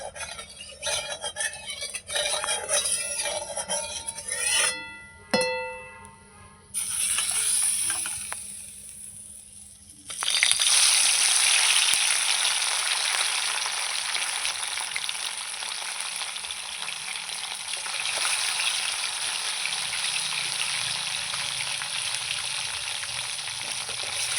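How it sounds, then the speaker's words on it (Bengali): Parshe fish drop into hot oil with a sudden loud, crackling sizzle that continues steadily and closely. Softer clinks and pan sounds come before it. "তেল গরম হয়ে গেছে এবার এই মাছ দিয়ে দেবো"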